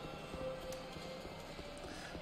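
Hooves from a horse race slot machine in Metro Sim Hustle, a soft rapid clip-clop patter that runs steadily and faintly beneath a voice.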